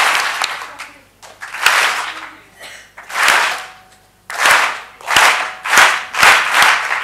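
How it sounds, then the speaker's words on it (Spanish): An audience claps in repeated bursts at a stress-relief workshop, each burst of applause starting and stopping sharply in a cued rhythm, about six rounds of loud, close clapping over several seconds. "Cada vez que bajo la mano, aplauden."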